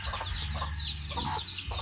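Pet chickens cluck in short, repeated bursts over a steady low background, close by and moderately loud, with no talking.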